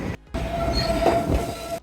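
A subway train at General Square station on a snowy winter day, rumbling loudly and continuously with a sustained metallic wheel squeal running through it.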